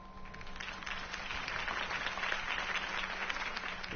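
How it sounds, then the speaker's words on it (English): Crowd applause in the Batman Telltale Series video game, even and sustained, slightly muffled and distant, with a faint steady hum beneath. "could have heard that applause"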